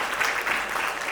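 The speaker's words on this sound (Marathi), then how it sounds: "त्याच्यामुळे रसिक सरांसाठी आपण जोरदार टाळ्या झाल्या पाहिजेत" Brief, moderately faint wash of audience applause at a movie premiere for Rasik sir, steady clapping with no talk.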